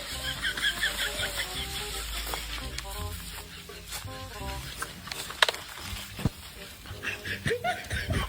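Chickens cluck and squawk intermittently while people talk and laugh over them. The birds are fairly close, with scattered handling noises and bumps.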